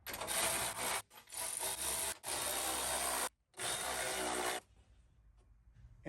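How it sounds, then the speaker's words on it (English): Milwaukee impact gun tightening the bolts of an aluminum gas tank skid plate on a 100 Series Toyota Land Cruiser: four loud, close bursts of buzzing rattle split by short pauses, then a faint tail with no talk. "Now we're just gonna cinch them up with the Milwaukee gun."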